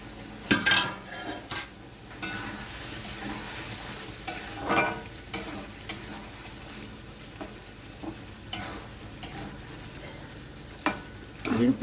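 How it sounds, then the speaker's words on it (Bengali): A lid comes off a cooking pot of simmering pointed gourd, bringing metallic clatters and clinks of lid and utensils against the pot over a faint background sizzle, with scattered knocks spread across the moment. "এবার আমি ঢাকনাটা খুলে দেখে নিচ্ছি"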